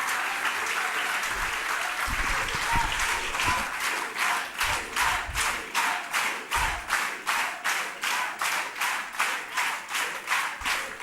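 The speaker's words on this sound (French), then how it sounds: "Je vous demande maintenant d'applaudir Julien Pérez." Audience at a campaign meeting in Clichy breaks into sustained applause, steady dense clapping filling the room that settles into a rhythmic pulse toward the end, with no speech over it.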